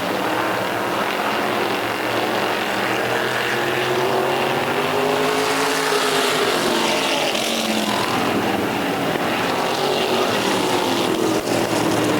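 Race cars roaring around a track, a loud continuous engine drone with rising and falling pitch as cars pass close by, steady and dense with no talk.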